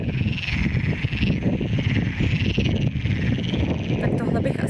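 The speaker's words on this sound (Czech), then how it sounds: "Tak tohle bych asi nazvala žabí meditační hudbou." Chorus of many frogs croaking along a pilgrimage route toward Santiago, a dense, continuous pulsing chorus heard up close and fairly loud, with no one speaking.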